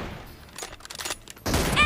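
Gunfire in the mobile battle royale game PUBG Mobile, team deathmatch with an M24 sniper rifle: scattered sharp bursts followed by a louder, dense crack of shots near the end, with no talk.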